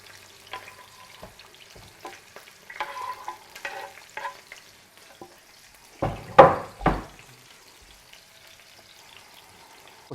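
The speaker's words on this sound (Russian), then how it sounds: "Лук нужно обжарить до румяности на небольшом количестве подсолнечного масла." Onion fries in a little sunflower oil, a faint, steady sizzle broken by a few louder stirring clatters in the pan, with no talk.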